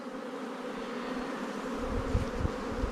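Honeybees hum steadily around an open hive with a laying queen on the comb, a dense, continuous close-up drone with a few louder low bumps near the end.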